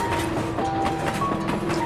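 Train rolling and coming to a stop at Grant Road station, with a low rumble and rhythmic clacking and faint squealing tones of wheels on the rails, heard from inside the carriage.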